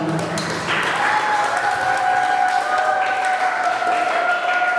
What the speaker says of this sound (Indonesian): Boleh berikan tepuk tangan buat kita semua.